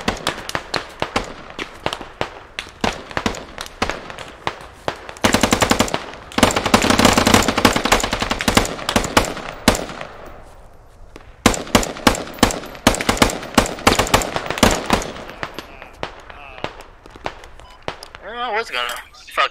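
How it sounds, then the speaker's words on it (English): Light machine gun fire in the Squad video game during a large China versus USA battle, long rapid bursts with scattered single shots and distant gunfire, loud throughout, with occasional voices over it. "That LMG is nice."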